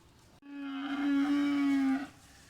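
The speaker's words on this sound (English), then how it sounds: "She is a loud cow." A loud cow moos once in a single long, sustained low call on a farm with newly arrived feeder steers, close and clear over faint background noise, with no talking.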